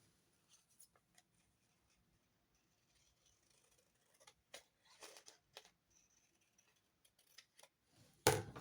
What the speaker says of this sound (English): I don't know why I use scissors when I could use a knife.